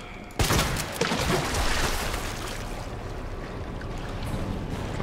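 Gunfire in Resident Evil 2 sets off with a sharp loud burst, then a dense rumbling wash of noise trails on for several seconds without clear separate shots.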